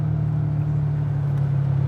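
Inside a rolling Ferrari 456 GT, a steady deep engine and road rumble holds evenly, loud and close, with no talk.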